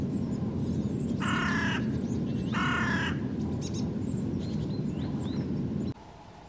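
Crows caw at a bird feeder near a tree trunk outdoors, two loud harsh caws over steady background rumble, with fainter chirps from other birds between them.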